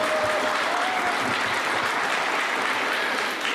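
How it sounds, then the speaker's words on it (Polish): An audience at a Nativity play event applauds, a loud, continuous patter of many hands that stays even for several seconds with no speech heard over it. "Posłuchajcie Państwo, gorące brawa dla pana Piotra, bo tak znowu się pomyliłem."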